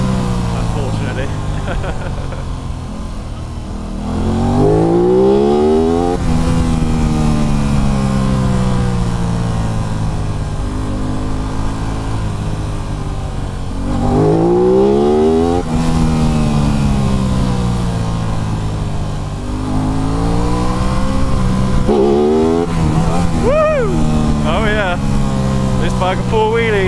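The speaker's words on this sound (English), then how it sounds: "let's see if I can do a quick 0 to 60 around here" An Aprilia RS 660 motorcycle accelerates hard through the gears on winding roads, its engine note climbing in repeated rising sweeps with shifts between, loud beneath heavy wind rush and a rider's voice.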